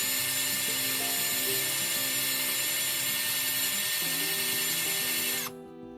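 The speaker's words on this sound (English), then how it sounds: "We need to drill the old rivets out of the bracket." A power drill whines loudly at close range, its pitch shifting as it bites through old metal rivets in a Jaguar E-Type washer pump bracket, then cuts off abruptly near the end.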